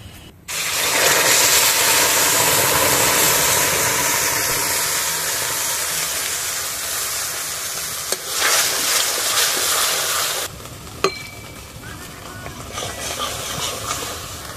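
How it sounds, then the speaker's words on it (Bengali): Tomato mixture hitting hot rapeseed oil in a wok, a loud steady hiss and sizzle that fills the whole stretch, easing slightly toward the end with a couple of sharp utensil clinks. "কড়ার মধ্যে অল্প রেপসি তেল দিয়ে, তেলটা গরম হয়ে গেছে, এরপরে দিয়ে দেব টমেটোর মিশ্রণটা।"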